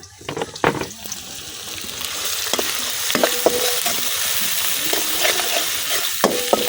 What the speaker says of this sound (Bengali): সবকিছু কিছুক্ষণ ভাজা নিলাম।